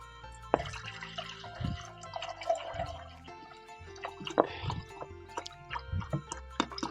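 Cold water is poured in uneven splashes and drips, close and fairly faint, with trickling bursts and pauses between them.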